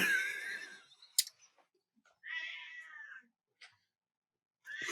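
A house cat meows loudly up close, a drawn-out call at the start followed by two shorter meows after pauses, with brief knocks and quiet gaps between.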